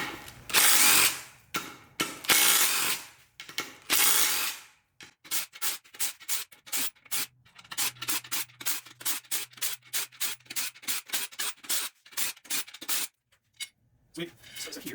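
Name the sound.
ratchet removing beadlock bolts from a wheel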